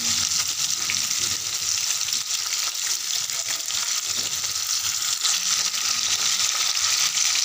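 Fish frying in a hot pan of oil during preparation of a Bengali fish dish, a dense continuous sizzle and crackle that stays loud and even as the pieces are turned over.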